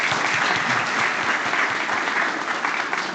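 Loud, sustained clapping from a crowd at a Sicredi Serrana cooperative general assembly, thick and continuous throughout.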